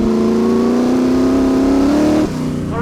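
A 900hp V8 sprint car engine idles loudly up close, with a deep, rough, steady throb and a slight rise in pitch before dropping back.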